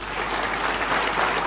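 Steady, dense audience applause at an association's annual general meeting in a hall, a continuous even wash of clapping with no voices over it.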